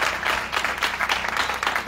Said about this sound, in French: On applaudit cet esprit